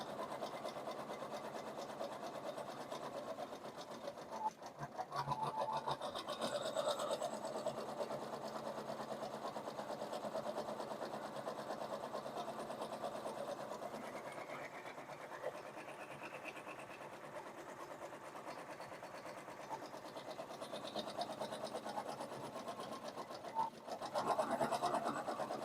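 An embroidery machine stitches a pumpkin mug rug design, a continuous low mechanical chatter and rasping hum that stays steady and fairly quiet throughout.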